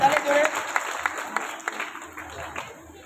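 Children in an audience clap together at a cultural programme, a brief scattered patter of hands that fades over a few seconds, with faint voices in the background.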